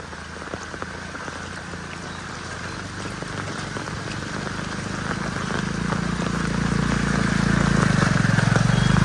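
Heavy rain drums steadily with scattered drops in Bhiwandi, while a low rumble, like idling engines from vehicles stalled in a rain-caused traffic jam, builds toward the end.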